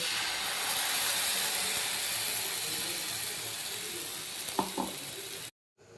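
Pithla batter made from gram flour sizzles loudly in fried masala on a hot tawa, a steady close frying hiss with a couple of soft clinks near the end before it cuts off.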